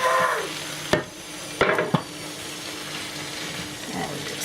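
Roast dinner leftovers get stirred and fried in a full wok, a soft steady sizzle broken by a few sharp clanks and scrapes of the utensil against the pan, with no one speaking.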